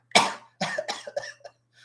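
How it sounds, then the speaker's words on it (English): A single close, harsh cough followed by a few shorter throat-clearing coughs, heard alone in a quiet room from someone with a sinus and allergy tickle in the throat. "I do have a cough and tickle in my throat"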